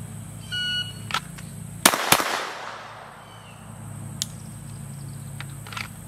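Two rapid, loud, sharp shots from a Glock 44 .22LR pistol during a draw-and-shoot drill, fired a fraction of a second apart, with a shot-timer beep just before and faint handling noises around them.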